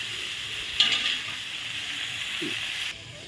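Cauliflower and chicken fry in a pan with a steady bright sizzle throughout, a brief louder flare near the start, then the sizzle cuts off abruptly near the end.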